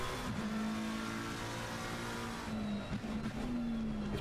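A McLaren GT3 race car engine in a racing video game at the Hungaroring holds a steady, loud drone, with slight pitch shifts and brief bumps near the end, heard alone.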